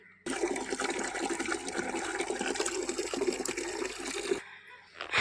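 Liquid fertilizer gushes out onto plants in a strong, steady pour for about four seconds, then stops abruptly, leaving a brief quiet.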